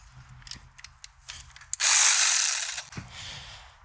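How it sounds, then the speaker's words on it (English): A ratchet wrench with 8mm and 10mm sockets removing a brake line bracket from the spindle of a 2019 or later Ford Ranger, giving a loud, close continuous clicking burst after a few lighter metallic taps. "To do so, you're going to use an 8mm socket and also a 10mm to get the brake line bracket removed."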